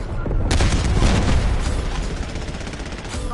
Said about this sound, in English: Nocturne requesting napalm strike.